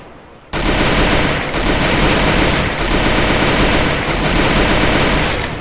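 Rapid automatic gunfire in a shooter video game, a loud continuous burst that starts abruptly and keeps going without a break, with no talking over it.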